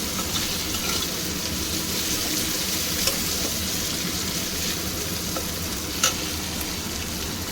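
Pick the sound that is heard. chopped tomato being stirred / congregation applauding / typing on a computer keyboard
chopped tomato being stirred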